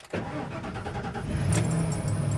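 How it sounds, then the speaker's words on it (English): A 1994 Ford F350 5.8L engine cranks briefly and catches, then settles into a steady, smooth running rumble close by. "get the car started and see how it performs"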